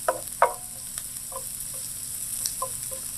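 A whole lot of garlic sizzles softly in a pan for beef chili, a steady faint hiss broken by a few light clicks and scrapes of stirring.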